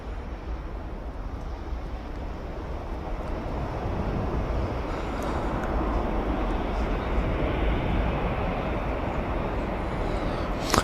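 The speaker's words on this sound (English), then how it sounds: "Phil Seller saying there's a TUI Dreamliner on finals" A TUI Boeing 787 Dreamliner comes in to land at Manchester Airport. Its engines make a loud, steady rumbling roar that fills the whole stretch, slightly buffeted by wind on the microphone.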